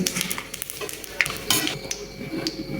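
Cumin seeds fry in hot oil after onions while a utensil scrapes and stirs the pan, giving close sizzling with irregular clinks and scraping strokes.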